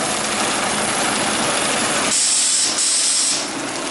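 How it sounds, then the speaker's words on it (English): A vibratory feeder system for metal rings with tabs runs steadily, with a dense, loud mechanical buzzing and hiss; midway a sharp high air hiss joins in, then fades. "keep the machine running so we can see it"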